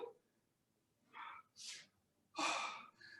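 Heavy, gasping breaths after a kettlebell workout, several short loud puffs and panting exhales in uneven bursts, close to the microphone.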